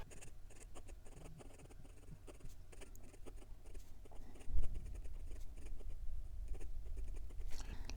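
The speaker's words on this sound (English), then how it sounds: "And we're back with the writing portion of the review. And this is the Esterbrook Estie Oversize." An Esterbrook Estie Oversize fountain pen in honeycomb finish, with an extra fine size 6 Jowo nib, writes on paper. It makes soft, close scratchy strokes in an uneven rhythm, with a faint low rumble in the background and no talking.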